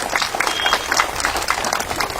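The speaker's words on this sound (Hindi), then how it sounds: "जोरदार तालियां बजनी चाहिए।" Crowd applause at a political rally in Araria, Bihar, dense close clapping sustained through the whole short burst.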